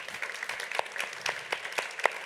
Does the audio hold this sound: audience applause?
yes